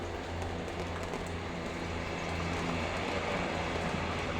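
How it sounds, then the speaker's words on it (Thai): A steady low rumble of a diesel railcar train arriving at a station in Thailand, humming and droning with a gradual build in loudness. "รถไฟมาแล้ว"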